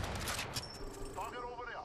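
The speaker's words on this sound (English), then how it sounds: "The enemies are shooting at me." Enemy gunfire in an Apex Legends-style shooter rattles in a dense, continuous burst, with a player's voice talking over parts of it.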